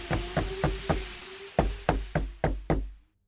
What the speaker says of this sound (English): Suddenly, somebody knocks at the door.